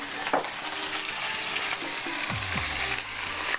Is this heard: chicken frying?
yes